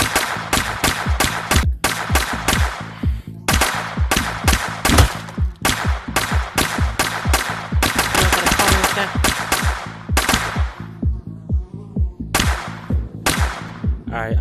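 Gunfire in the VR game I Am Security, inside a nightclub: loud, rapid repeated shots in quick clusters with short pauses, continuing throughout over a steady low background.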